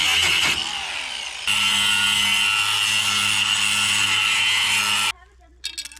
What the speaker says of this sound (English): I'm going to have to cut that off with the angle grinder